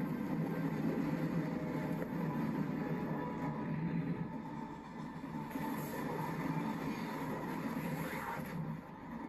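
Train ride in a video game, a steady low rumble and rolling clatter that holds for several seconds at moderate loudness, with no speech.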